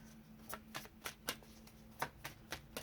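Oracle cards are shuffled by hand, giving a quiet series of crisp riffling snaps that come at uneven intervals, close and soft over a faint steady hum.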